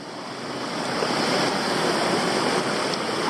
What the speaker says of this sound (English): it's flowing better than I expected, I've got to say, this creek